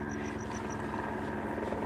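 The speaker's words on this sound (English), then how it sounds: "hear a police helicopter" A police helicopter drones steadily overhead with a low rotor thrum, alongside a quick series of faint, high bird chirps near the start.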